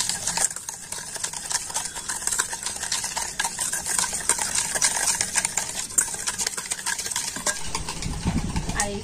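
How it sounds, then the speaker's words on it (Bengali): Sour yogurt and sugar are beaten by hand in a bowl, producing a steady, rapid scraping and clicking whisk rhythm that holds close and busy throughout. "এখন আমি টক দই আর চিনিটা কিন্তু খুব ভালো করে ফেটিয়ে নেব"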